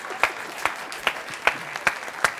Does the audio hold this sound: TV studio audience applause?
yes